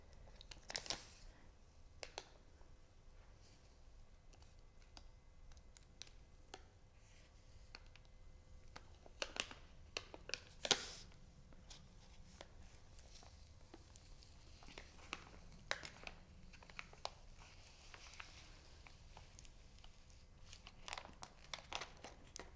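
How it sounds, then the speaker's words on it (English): Vinyl sheet peeled off slowly with a small scraper gives faint, intermittent crinkles, crackles and soft tearing snaps scattered over a quiet background, with occasional sharper pops. "Maybe take your little scraper and then peel it off slowly."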